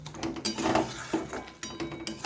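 A spoon stirs and scrapes banana stem curry in a metal pan, giving irregular clinks and knocks with a soft, wet shuffling in between, close and fairly quiet.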